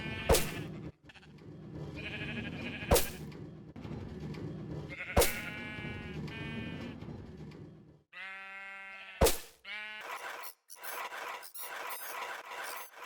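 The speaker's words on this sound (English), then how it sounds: "After removing all the shears from the dispensers and allowing the sheep to eat grass, we can see there is one black sheep in the herd." Sheep bleating on a wool farm in a video game, a series of distinct bleats separated by short gaps, with sharp clicks between them and no talking.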